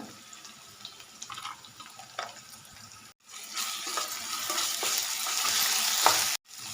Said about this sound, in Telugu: ఉల్లిపాయ వేగిపోయింది. అల్లం పేస్ట్ వేస్తున్నానండి